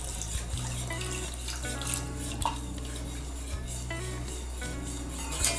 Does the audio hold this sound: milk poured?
yes